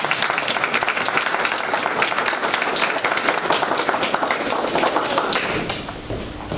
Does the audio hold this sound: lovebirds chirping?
no